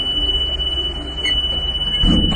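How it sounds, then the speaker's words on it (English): A school bus emergency exit buzzer sounds a steady, high electronic tone continuously, with a low rumbling hum beneath it and a brief thump near the end. "I hear the buzzer, I see the light."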